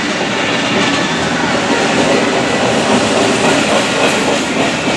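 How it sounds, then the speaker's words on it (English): A train rolls past near a van shop, heading south into town, giving a loud, steady rumble and wheel clatter that fills the whole stretch without a break, with no talking. "There's the train."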